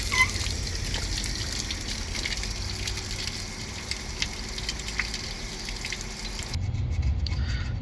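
Water draining out of a building's plumbing through an opened valve during a main water filter installation: a steady rushing, hissing flow close by that continues throughout, with a brief change in tone near the end.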